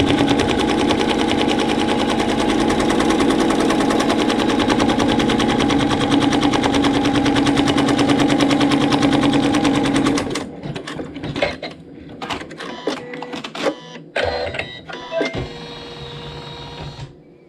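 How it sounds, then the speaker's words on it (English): An embroidery machine stitches a placement stitch on fabric using water-soluble thread, giving a loud, rapid, steady mechanical rattle for about ten seconds before it stops, followed by scattered clicks and clunks. "it's going to stitch a placement stitch right over the fabric"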